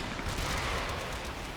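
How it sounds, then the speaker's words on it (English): Explosions from a cannon-mode shell in the video game Warframe: a continuous, loud, roaring blast with crackling secondary bursts that blend into one unbroken wall of noise. "There's a bunch of secondary explosions as well as all that black smoke down there."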